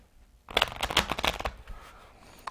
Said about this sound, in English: another shuffle that works is just taking and fanning the cards into each other